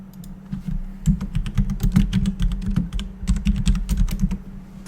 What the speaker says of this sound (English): Sorry, people at home, for typing.